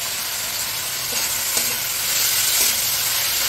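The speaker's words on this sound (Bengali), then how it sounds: "ভেজে নিতে হবে পেঁয়াজ, আদা," Onion, ginger paste, garlic paste and chopped tomato fry in a pan, making a loud, close, continuous sizzle broken by a few scraping stirs, heard alone without speech.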